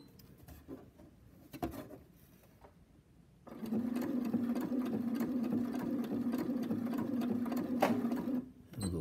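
A sewing machine stitching paraglider line runs steadily for several seconds after a few quiet handling knocks, its motor hum and rapid needle rhythm close and even before stopping.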